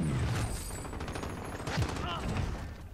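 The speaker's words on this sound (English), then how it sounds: "Someone else is shooting at me." Rapid gunfire crackles through a Call of Duty: Warzone match in a fast, loud flurry of shots. Voices talk over it.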